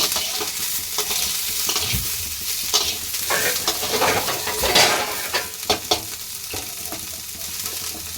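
Cauliflower and sago stirred in a frying pan over oil, a steady sizzle under repeated scraping and clattering of the spoon against the pan, close and busy throughout.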